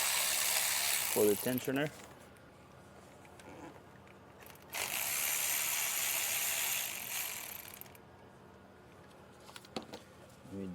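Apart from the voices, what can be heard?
ratchet undoing camshaft tensioner bolts on Mercedes M276 engine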